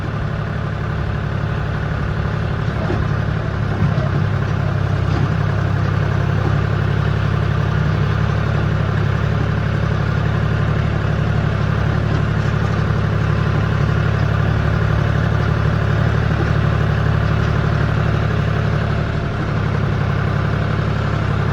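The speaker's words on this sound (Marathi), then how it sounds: "आपण तिथून चाललोय का ट्रॅक्टर घेऊन" A tractor engine drones steadily and loudly while driving through a large forest before dawn. The low, even rumble is close and unbroken for the whole stretch, with no speech.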